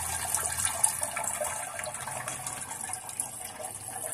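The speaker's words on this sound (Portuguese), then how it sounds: "Espera encher, tá? Pra você poder dar a descarga." Water rushes steadily into a toilet cistern (Astra coupled-tank kit, MDU2) after the fill valve is opened, a continuous close hiss and gush of filling water with no talk.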